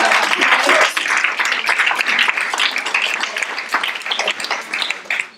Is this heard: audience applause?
yes